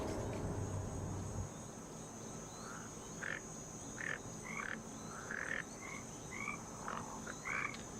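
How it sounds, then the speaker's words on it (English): Frogs croaking in short, scattered bursts at night over a faint steady buzz of insects, quiet and distant with irregular gaps between calls. "I like that we can hear the frogs"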